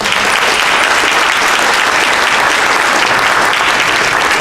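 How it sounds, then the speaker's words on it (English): Sustained applause from an audience at a Clayton County Chamber of Commerce Valor Awards ceremony, steady dense clapping throughout, loud and continuous with no talk over it. "Let's give them all a round of applause"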